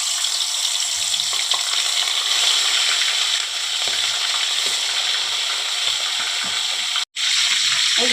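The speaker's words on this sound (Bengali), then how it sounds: "এই যে আমি তেল দিয়েছি, এবারে আমি মাছগুলো একটা একটা করে ছেড়ে দেবো।" Bhola bhetki fish pieces frying in hot oil, a steady loud sizzle and crackle running throughout, with a brief cut near the end before the hiss resumes.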